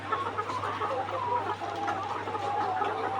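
Many laying hens, 139 days old, clucking and murmuring together in a busy chorus on a layer farm, with a steady low electrical hum underneath.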